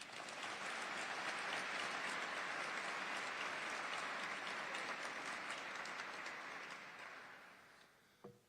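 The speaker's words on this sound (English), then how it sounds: "I'm going to let you guys clap for that one." An audience at the Orlando State of Downtown Address claps continuously for several seconds, a dense, even patter heard at a distance that gradually fades away.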